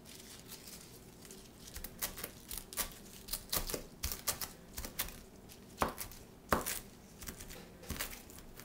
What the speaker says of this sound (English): I'm actually going to cut some of this celery leaves up a little bit